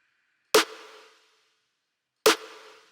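Two crisp snare drum hits, each sharp and bright with a short ringing tail, spaced well apart against silence.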